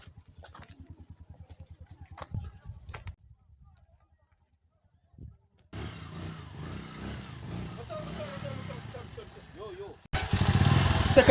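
A passenger motorcycle taxi engine runs with a steady putter of rapid pulses at first. After a short lull it gives way to a rougher, louder continuous drone that swells sharply near the end.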